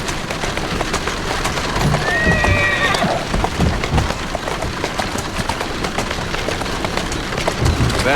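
A horse in the video game Assassin's Creed Syndicate, its hooves clip-clopping steadily in the rain with a brief whinny in the middle, over a constant hiss of rainfall.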